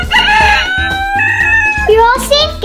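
A rooster's cock-a-doodle-doo rings out loud and close amid pretend play, its harmonic crowing calls mixed with excited children's voices that may be imitating the crow.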